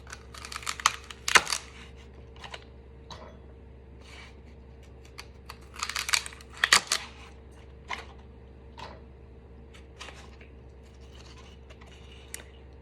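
Knife cutting vegetables on a board, a quiet, irregular series of sharp chops and taps, several in quick clusters, over a low steady background hum.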